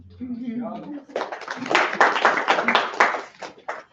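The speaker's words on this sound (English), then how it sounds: "let's give a round of applause." A classroom of students breaks into scattered clapping after a brief bit of speech, a loose burst of hands that builds, thins out and ends with a few last claps.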